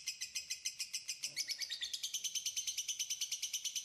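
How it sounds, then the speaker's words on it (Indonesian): A lovebird parent that is already incubating eggs calls in a rapid, steady series of sharp, high chirps. The chirps repeat evenly, close and clear, with no other sounds. "Suara induk lovebird yang sudah mengerami telur akan memancing induk baru untuk mau melakukan aktivitas pengeraman."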